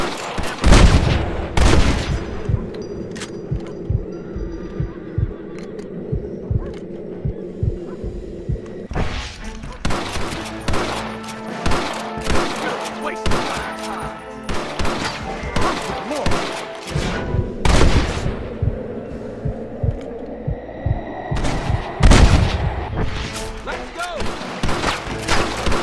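A gunfire shootout in the video game Red Dead Redemption: rapid, loud volleys of shots and booming blasts in dense bursts for most of the stretch, with voices shouting in places.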